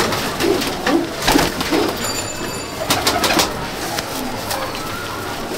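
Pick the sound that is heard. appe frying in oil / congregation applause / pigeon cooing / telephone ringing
pigeon cooing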